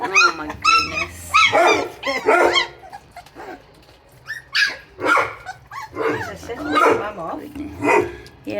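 Young puppies recently starting on milk and puppy food cry, whimper and yip in repeated high-pitched bursts, close and loud, with short pauses between calls.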